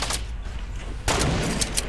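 Gunshots during a Fortnite battle royale match, a sudden loud burst of cracks after a steady game background, near and sharp.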